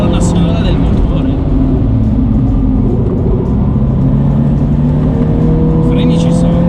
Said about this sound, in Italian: si riesce a sentire bene la colonna sonora del motore